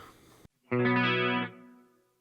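A single sustained clean electric guitar chord drenched in smooth dynamic plate reverb from a Line 6 Helix, swelling briefly then decaying into a long, soft tail.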